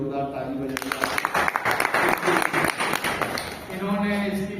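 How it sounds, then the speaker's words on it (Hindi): Applause from an audience at a pensioners' day gathering, a burst of clapping rising after a spoken announcement and lasting a few seconds before talk resumes. "दोनों के लिए जोरदार ताली बजाइए।"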